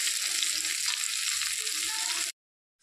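Potato and teasel gourd fry in hot oil in a pan, giving a steady, loud sizzle with faint stirring underneath that runs unbroken for about two seconds and then abruptly cuts to silence.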